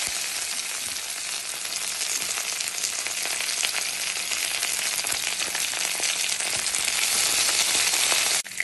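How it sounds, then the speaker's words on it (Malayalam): Curry leaves crackling and frying in hot oil for a Kerala-style roasted-coconut country chicken curry, a dense, steady sizzle close by throughout with no talking. "അപ്പോൾ നമ്മൾ ആദ്യം അതിലേക്ക് കറിവേപ്പില ഇട്ട് കൊടുക്കണം."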